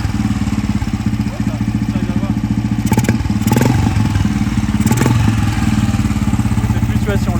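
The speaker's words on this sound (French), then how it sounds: "Tu mets un premier coup de kick, t'attends d'arriver au point de compression." A 1983 Royal Enfield motorcycle, imported from India, runs after a kick start with a loud, close single-cylinder thump at a steady rhythm, a few brief clanks and blips rising above it throughout.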